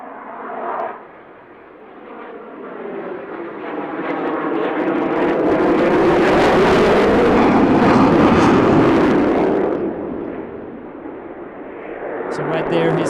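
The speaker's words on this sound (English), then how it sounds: "So right there he's at full afterburner and he's accelerating" A fighter jet at full afterburner accelerates, its roar swelling from a distant rumble to a loud, broad blast that peaks mid-way and then fades as it passes.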